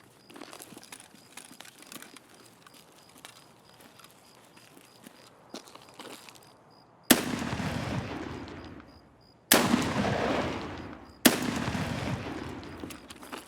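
Three heavy, close shotgun blasts in Escape From Tarkov, each a sharp boom with a ringing tail, following several seconds of quiet ambient rustling.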